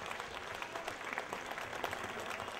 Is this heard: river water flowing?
no